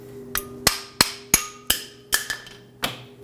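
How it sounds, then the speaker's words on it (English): A hammer taps the ears of a rear brake pad on a 2009-2011 Ford F-150 seven times in an uneven rhythm, each sharp metal clink ringing briefly, close and clear with no talking. "I'm just going to use a hammer, tap on these 2 ears, and it'll slide the pad straight out."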